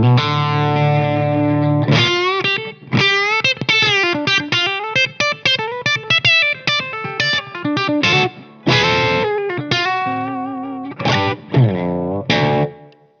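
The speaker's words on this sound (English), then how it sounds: "The gain is all the way up on the first half of channel" Electric guitar runs through a Blackstar St James 50 head with the gain all the way up, giving loud, saturated distorted lead lines with bends and quick runs that pause briefly between phrases, played close with no talking.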